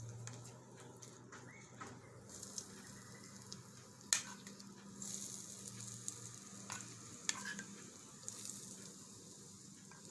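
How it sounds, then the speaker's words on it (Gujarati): Hot tempering of mustard seeds, sesame and curry leaves poured over moong dal and semolina dhokla, a quiet sizzle that swells after a couple of seconds, with faint clinks and scrapes, close and without speech. "હવે આપણે આની માથે વઘાર કરી નાખીશું"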